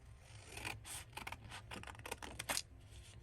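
Scissors snip through paper for a small handmade journal in a string of quiet, close, irregular cuts and rustles.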